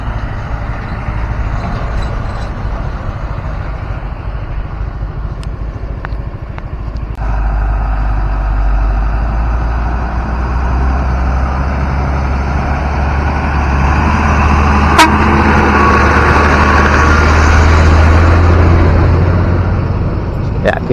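Trucks pulling out of a toll road construction site, with heavy diesel engine rumble that grows louder partway through and holds steady as the vehicles pass fairly close, plus faint outdoor background noise.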